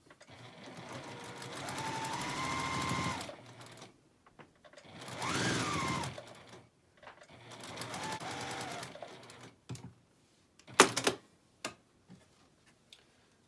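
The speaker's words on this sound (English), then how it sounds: "So I am now just going to sew the final seam on this." Domestic sewing machine stitching the final seam of a patchwork zipper pouch, running in three steady bursts of rapid stitching separated by pauses, close and fairly loud, ending with a few sharp clicks and taps.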